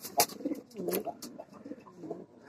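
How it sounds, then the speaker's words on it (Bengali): Pigeons cooing in a loft, several soft overlapping coos close by in a steady murmuring rhythm, with no voices. "এই হচ্ছে আমার কবুতর"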